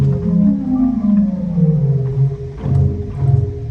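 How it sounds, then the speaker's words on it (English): A pipe organ's 16-foot double open diapason stop plays deep, rumbling sustained low tones that shift between notes, loud and full with no talking. "the first stop on the grate is a 16-foot double open diapason"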